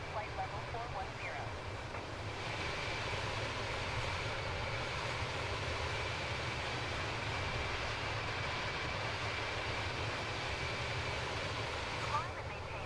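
Airliner engines drone steadily in Microsoft Flight Simulator 2024 during a high-altitude climb, a broad continuous roar under intermittent radio-style talk.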